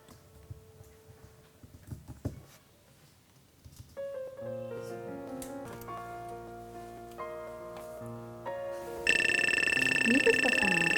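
A telephone rings with a melodic electronic tone. The ring starts faint over quiet room noise, then grows louder and brighter toward the end.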